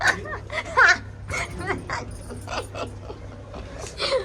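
A dog barks in short, loud bursts, several sharp yips and whimpering barks spread across the moment, close by, with some creaking and faint voices in the background.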